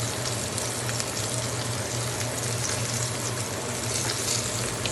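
A pot of cou-cou being stirred on the stove gives a steady, dense, noisy wash of scraping and bubbling that stays even and fairly loud throughout, with no talking.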